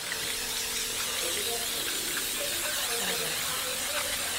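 Canola oil cooking spray being sprayed over breaded Pacific razor clams before baking, a steady close hiss that runs unbroken for a few seconds.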